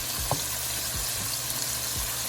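Kebabs for handi kebab fry in a pan with a steady, close sizzle, broken by a few soft clinks and stirring movements as the pieces are turned.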